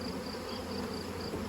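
Honeybees buzzing at an open hive while it is split into new boxes, a loud, continuous close-up hum from many insects with no voices.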